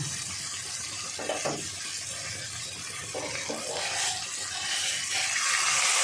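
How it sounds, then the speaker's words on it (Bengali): Hot water being poured into a pot of lightly spiced curry, giving a steady watery rush with bubbling and splashing that grows a little louder toward the end, with no talking. "এবার আমি গরম জল দিয়ে দেবো।"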